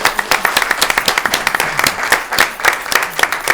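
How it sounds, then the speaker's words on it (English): An audience at a school committee meeting gives a round of applause for the graduating class of 2023, clear individual claps in a steady, lively rhythm from a modest crowd nearby. "How about a round of applause for the class of 2023?"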